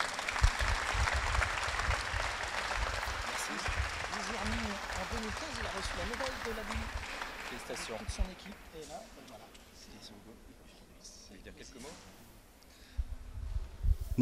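Audience applause at an innovation award ceremony, dense sustained clapping from a crowd that thins out, with talking underneath and a few last claps near the end.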